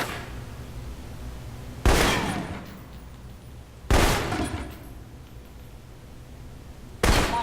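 Three spaced, loud assault rifle shots at a shooting range in the Alpha Protocol video game, each a sharp crack with a long reverberant tail over a steady low background hum.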